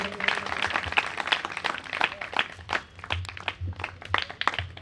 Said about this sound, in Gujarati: જોરદાર તાળીયા થઈ જાય